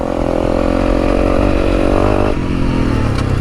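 A Honda CRF300L Rally motorcycle with an aftermarket performance chip climbs a hill, its single-cylinder engine loud and close in a steady, labouring drone that drops in pitch as the load shifts near the end.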